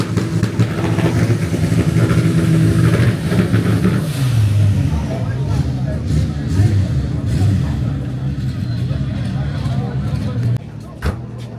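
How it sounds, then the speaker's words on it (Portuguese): Engine of the car that won best burnout at a drag racing round in Rio de Janeiro, a loud continuous rumbling drone with slight shifts in pitch, steady throughout. "é o motor do cara que ganhou o melhor burnout"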